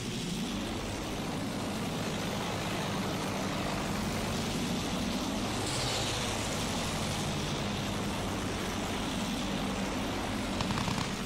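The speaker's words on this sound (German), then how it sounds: "Vorsicht, Flugzeug!" Aircraft engines roaring during a Battlefield 1 fighter dogfight, a dense continuous drone with a faint sweeping pass midway, loud and steady throughout without speech.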